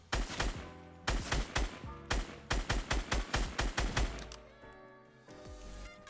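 Gunfire in Fortnite Battle Royale, loud repeated bursts of rapid shots with short pauses between volleys, ending in a sustained rumble, with no talk.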